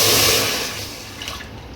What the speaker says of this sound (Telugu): ఇప్పుడైతే 1 గ్లాసు వాటర్ పోసేస్తున్నాను